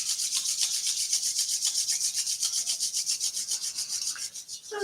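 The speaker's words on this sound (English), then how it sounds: "rub your palms" Palms rubbing briskly together during a Kundalini yoga session, a close, loud, steady swishing friction in quick rhythmic strokes that lasts several seconds, with no talking.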